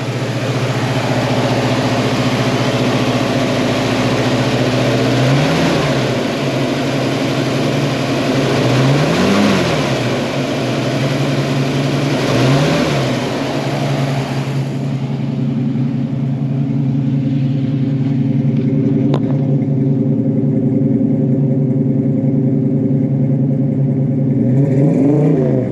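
A 1964½ Ford Mustang F Code V8 running loud and close on a cold day, with three rising and falling revs over a steady idle before it settles into a rumbling idle.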